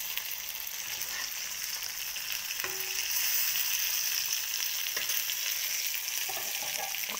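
Kerala style fish frying in a pan makes a steady broadband sizzle throughout, with a few faint clinks and stirring sounds over the hiss.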